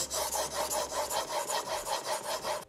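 A plane iron being sharpened on a 1000 grit stone, with rhythmic back-and-forth rasping strokes, about ten in steady succession, close and clear with no talking.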